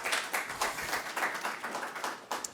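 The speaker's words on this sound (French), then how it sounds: "Mais d'abord, on peut t'applaudir." Audience applause with steady clapping from a crowd at a French sponsored talk or conference stage, moderately loud and continuous for a couple of seconds with no voices over it.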